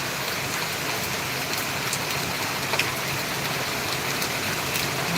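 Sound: rain falling

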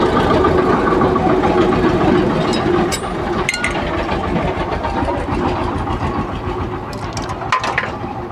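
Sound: Bajaj Discover motorcycle engine running, jamming

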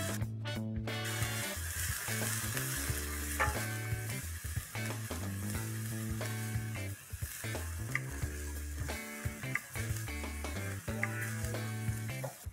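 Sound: onions frying as ginger garlic paste is added

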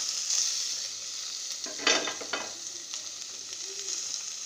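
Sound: eggs added to hot spiced oil, frying and sizzling in pan

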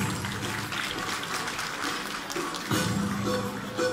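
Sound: audience applause

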